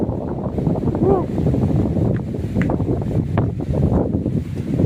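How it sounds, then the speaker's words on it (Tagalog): Strong wind buffets the microphone in a continuous roar, with a person speaking briefly over it. "oh, lakas ng hangin."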